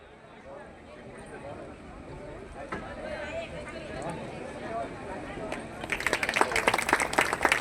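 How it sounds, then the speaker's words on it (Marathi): An audience applauds to welcome guests at a school centenary celebration in a hall. A voice speaks over a low murmur at first, then dense, close clapping breaks out and swells near the end. "जोरदार टाळ्या"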